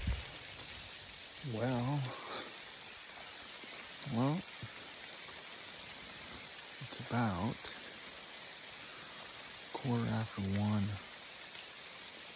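Steady rain hisses as a constant broadband wash, with someone speaking in short bursts over it.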